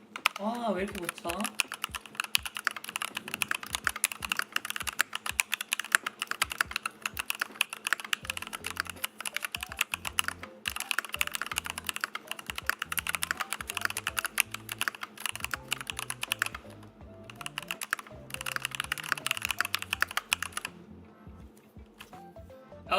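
Dense, rapid clatter of keystrokes on a full-profile computer keyboard, close and steady for most of the stretch with brief pauses, over quiet background music and occasional talk.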